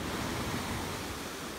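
Ocean surf churning at Birdlings Flat beach, New Zealand, a steady, dense wash of breaking water that fills the whole moment without pause and sounds close and powerful.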